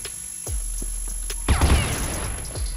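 Gunfire in the online shooter Crossfire, several sharp game-weapon shots with a low booming burst in the middle, heard under steady in-game background sound and without speech.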